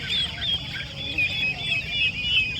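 Turkeys cluck and call in a crowd at the Mydukuru Saturday poultry market, a dense overlapping chatter of bird sounds with market noise and faint voices in the background.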